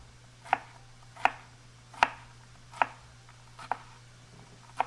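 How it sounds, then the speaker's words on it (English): A knife chops an onion into pieces on a cutting board, six sharp, evenly spaced knocks about one per second, close and distinct over a faint steady hum. "Lay it on its side, and just chop it into pieces."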